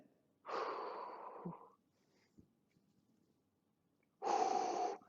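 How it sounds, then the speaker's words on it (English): Two deep, close breaths demonstrating the shift between chest and belly breathing, each a long airy inhale or exhale with a quiet pause between them. "that's between chest and belly breathing"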